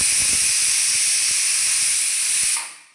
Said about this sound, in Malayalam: വിസിലൊക്കെ വന്ന് നമുക്ക് സ്റ്റവ് ഓഫ് ചെയ്യാം